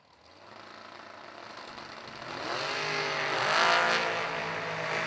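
A 2003 Chevrolet S10 drag racing truck launching at a New Year Nationals drag race: a loud engine roar rising sharply in pitch and volume as it accelerates away, heard alone without talk.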